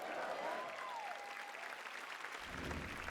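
The Oscars crowd claps for the nominees in the best actress category, a continuous broad spatter of applause filling the room, carrying a soft musical tone early on and low rumble toward the end.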